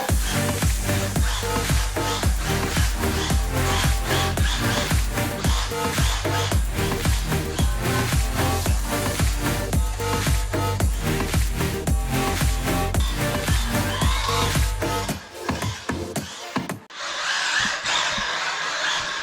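An SG-1603 4WD RC mini drift truck drifts across a laminate floor with a continuous high whine from its electric motor and tire squeal, cutting out abruptly near the end.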